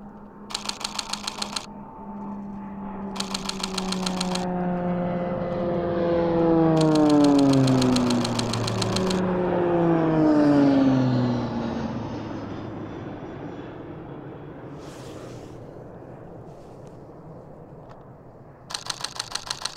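A loud roar from two low-flying military jets swells and passes overhead at the Mach Loop low-fly zone, rising then fading, with bursts of rapid camera shutter clicks at the start, middle and end.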